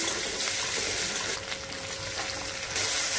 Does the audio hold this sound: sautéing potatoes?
yes